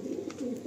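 Low, soft cooing of pigeons in a loft housing Andhra Lalsira Star Kalanka pigeons, a steady murmuring call held close and fairly quiet throughout the short moment.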